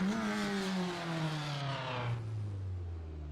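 Vintage Lotus 23 race car in Automobilista 2 at Snetterton, its engine revving with a steady buzzy drone that falls in pitch as it eases off, loud and close with no talk.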